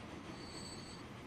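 A train running in the Transport Fever video game, heard as a steady rail rumble with a thin high wheel squeal above it, constant and moderately quiet throughout.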